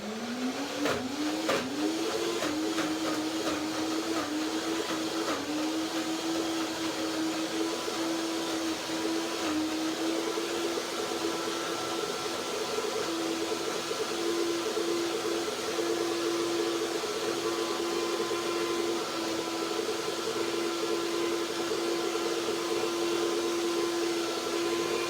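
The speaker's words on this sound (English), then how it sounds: "So one more blender dance to finish everything." An electric blender whirs steadily while mixing strawberry cream pie filling with dates and coconut cream, a loud close motor drone that quickly settles to an even pitch and runs unbroken for about twenty-five seconds.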